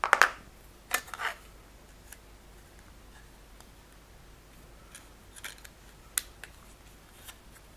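Scissors trim small plastic parts from a Bandai Millennium Falcon model kit sprue, giving a handful of crisp isolated snips spread over several seconds, close-up in an otherwise quiet room.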